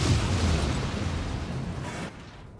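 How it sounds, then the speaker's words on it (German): A kinetic explosion in the video game Prey goes off as one loud, deep boom, then a roaring burst that slowly fades before cutting off abruptly. "Kinetische Explosion"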